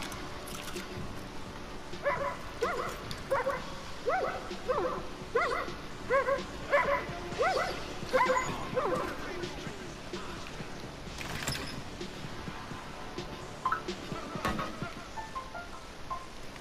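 A dog in the video game Far Cry New Dawn gives a run of short, yipping barks and whimpers over a steady game ambience, then falls quiet except for a few scattered sounds.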